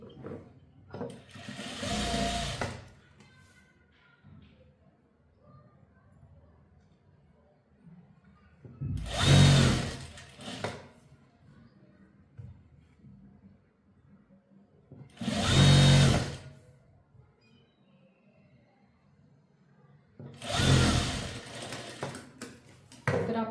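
A sewing machine stitching a belt onto a frock in four separate short bursts of whirring, each lasting a couple of seconds, with quiet pauses between them.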